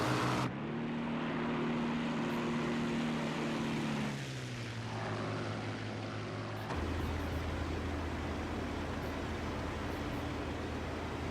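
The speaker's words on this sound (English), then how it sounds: "Spitfire go brrr, yes." Spitfire fighter's propeller engine in the flight game IL-2 Great Battles, a steady droning roar that shifts pitch midway and deepens toward the end, loud and continuous with no talk.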